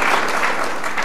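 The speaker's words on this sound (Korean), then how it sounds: "박수 치시고 싶으면 치세요." Audience applause during a Korean presidential town-hall conversation, a brief burst of dense clapping from a crowd, loud and steady across the short moment.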